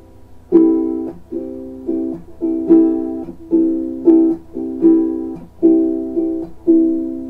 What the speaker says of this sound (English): That idea of palm muting, and we're going to throw it into our ellipse pattern.